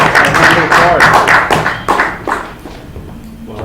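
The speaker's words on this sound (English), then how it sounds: "Oh, you guys can applaud." Brief, scattered clapping from a small audience welcoming a presenter at a startup pitch competition, loud at first, then thinning out and fading within a few seconds, with a voice talking over it.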